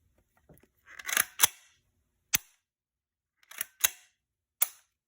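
A Remington Speedmaster 552 rifle gets a trigger function test: a handful of sharp, dry metallic clicks and snaps in small clusters, close by and separated by silence.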